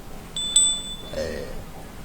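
A fortune bell at a Thai daily horoscope session rings once with a bright, thin metallic tone that fades within half a second, followed by faint background murmur.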